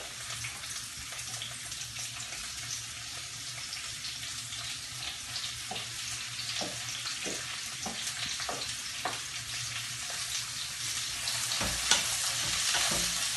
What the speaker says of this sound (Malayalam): ഇത് നന്നായിട്ട് വഴന്നു വരണം. അതുവരെ നന്നായി ഇളക്കി കൊടുക്കാം.